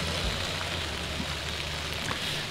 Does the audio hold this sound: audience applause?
no